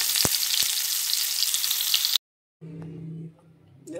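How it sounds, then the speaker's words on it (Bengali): Chicken meat frying in a kadai during kosha, a loud close sizzle with a couple of stirring knocks, then cutting out to near silence before a fainter, humming stretch. "আর এখানে কড়াতে মাংসটা কষে নেব।"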